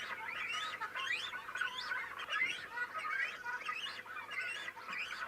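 Cormorant chicks, nearly adult-sized in midsummer, beg their parents for food at a Lake Baikal colony; a dense, continuous chorus of harsh, overlapping squawks and chatter carries at moderate volume.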